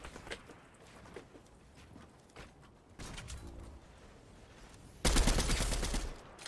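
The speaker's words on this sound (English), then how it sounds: "Stop shooting at me." Gunfire in a Fortnite battle comes in several bursts. Scattered distant shots are followed by a denser volley, and a loud, close burst of rapid fire arrives near the end.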